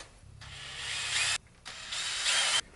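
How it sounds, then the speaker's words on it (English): Two bursts of a high, whining power drill boring holes in leather, each running about a second, separated by a short pause. "Drill a couple of holes."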